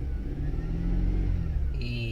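A car engine starts and revs in a rumbling, steady mid-pitched drone, held near and loud throughout, with a brief higher whine entering near the end.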